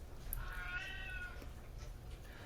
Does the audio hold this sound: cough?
no